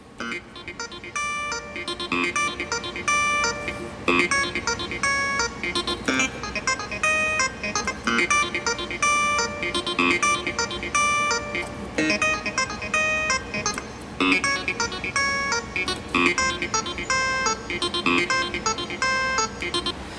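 Busy, funky clavinet-style keyboard pattern from a Yamaha PSR-E363's Funky Clav arpeggiator setting, with rapid repeating arpeggiated notes over a steady groove, loud and continuous throughout.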